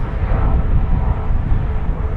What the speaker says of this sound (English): Sorry, you'll have to excuse the helicopter.